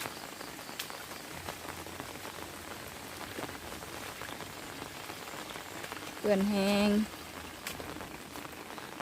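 Heavy rain falls steadily in a flooded area, a constant dense hiss of drops on surfaces, fairly faint, with a brief buzzing insect-like tone near the end and a few soft spoken words.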